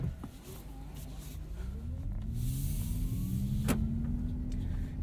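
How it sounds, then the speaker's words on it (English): A 2022 Mazda MX-30 Premium Plus FWD electric car releases its parking brake and pulls away, a rising electric motor whine climbing over low road rumble, with a brief click partway through. "tap the throttle and our parking brake automatically releases"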